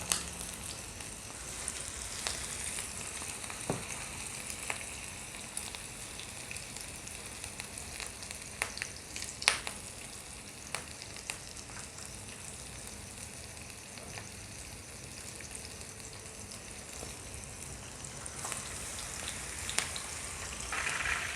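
Chapli kababs fry in hot ghee in a pan, a steady close crackling sizzle with scattered pops that continues alone for the whole stretch.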